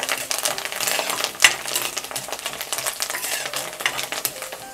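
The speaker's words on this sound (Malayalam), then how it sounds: "ഒന്ന് ഇളക്കി കൊടുക്കാം." Curry leaves being stirred into hot oil in a pan for a Kerala-style tuna fish curry, a busy crackling sizzle with scraping and clinking of a spoon against the pan, one sharper clatter partway through.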